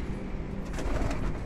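Pigeons coo softly and repeatedly at close range, their low murmuring calls steady over faint background noise, with no talking.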